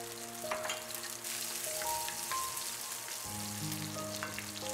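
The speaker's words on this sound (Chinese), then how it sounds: "再起个油锅， 放入葱白炒香，然后倒入河粉，" Rice noodles and scallion whites sizzle steadily in a hot oiled wok, a continuous close frying hiss with light stirring scrapes throughout.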